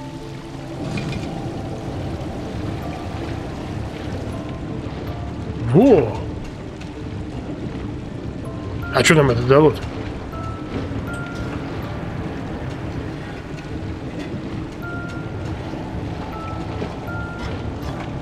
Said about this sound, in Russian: С помощью щита можно менять направление воды